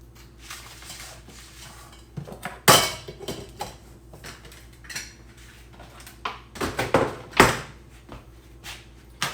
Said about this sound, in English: And I just kind of shake it around a little bit. Get that seasoning kind of all over it.